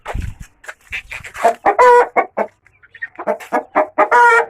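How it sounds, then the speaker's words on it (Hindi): Desi chickens clucking and squawking close by in bursts on a rooftop poultry farm, with a rooster's crow rising among the hens' calls. "दिखाते हैं सील मुर्गे आपको"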